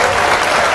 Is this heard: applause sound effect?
yes